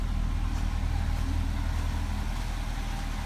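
A 2007 Chevrolet Corvette Z51 Indy 500 Pace Car idles steadily with a low, throbbing exhaust chug, close by and continuous, with no talking.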